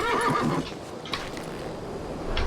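A horse neighs in the western shooter game Call of Juarez: Gunslinger, a close, clear whinny followed by a couple of shorter snorting bursts over a quiet background.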